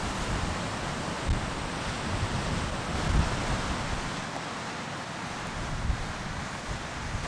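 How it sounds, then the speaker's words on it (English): Strong wind roaring steadily on the coast at Robe, with surf-like rushing noise and low buffeting gusts against the microphone, no talking. "It's just a bit windy."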